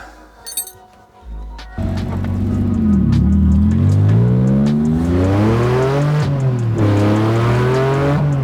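A Porsche 911 Slantnose engine starts and pulls away, its loud rising and falling revs heard up close as the car is driven through gear changes.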